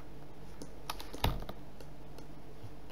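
A single sharp computer keyboard key press, the F4 key tapped while working in 3D modelling software, with a few fainter clicks around it against a low steady room hiss.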